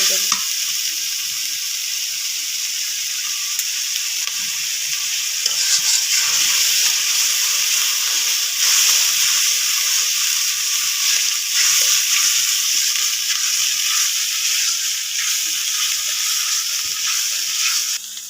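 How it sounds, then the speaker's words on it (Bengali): Spice paste sizzles steadily in a pan for country chicken curry, a continuous bright frying hiss with faint stirring scrapes, close and alone without speech. "মশলাটা নুন হলদি দেওয়ার আগে একটু ভালো করে কষায় নিতে হবে"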